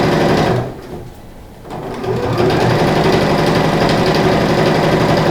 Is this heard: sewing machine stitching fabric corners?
yes